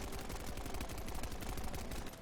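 Rapid automatic gunfire in The First Descendant video game, a fast crackling stream of shots, dense and steady for a couple of seconds at moderate loudness.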